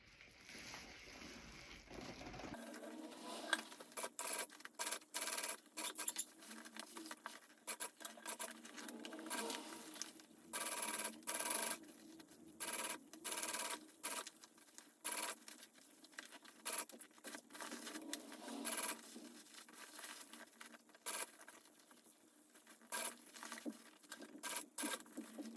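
A sewing machine stitches the lining of a handbag in stop-and-start bursts of close, quick needle patter, with short quiet gaps between runs and no talking.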